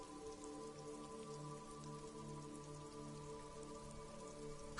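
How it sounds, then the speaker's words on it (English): Rain falls steadily onto a woodshed roof in the video game Disco Elysium, a quiet, continuous patter of drops over a low ambient hum. "Rain falls onto the roof of a woodshed."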